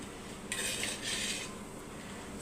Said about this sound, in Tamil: இப்போ மிக்ஸ் பண்ணிக்கலாம்